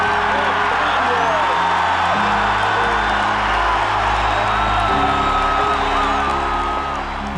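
Big stadium crowd at Kinnick Stadium during an Iowa Hawkeyes football game, loud and continuous with whoops and cheers swelling over a dense roar, plus a PA announcer's voice running through it.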